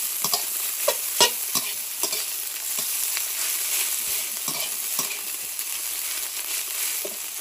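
Egg fried rice with light soy sauce is stir-fried in a pan, a steady bright sizzle broken by repeated scraping and clanking strokes of the spatula, close and alone.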